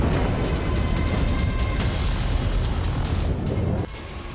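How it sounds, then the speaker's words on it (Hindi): A loud explosion in Gaza in the morning, heavy sustained booming rumble and roar close by that fills the whole stretch, easing off slightly toward the end. "गाजा में सुबह की शुरुआत इस जोरदार धमाके से हुई।"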